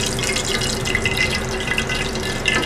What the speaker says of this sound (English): just gently lower them into the simmering sauce